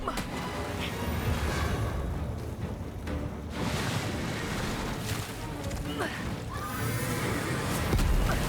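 A horse whinnies and neighs in the Lords of the Fallen video game, rising over rumbling, wave-like game ambience. It calls out a few times against the continuous background.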